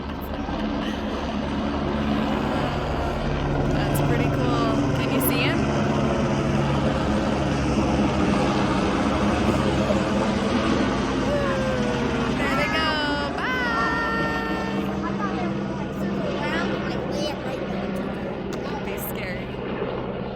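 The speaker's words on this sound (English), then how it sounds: "I don't think I've ever had a helicopter fly that close to my house" A helicopter circles low over a house, its rotor and engine drone loud and steady with a slowly shifting pitch as it passes, while people talk throughout.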